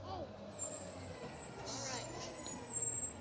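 A school bus pulls up with a long, high hiss of air brakes and a low idling engine, heard at moderate distance while people talk nearby.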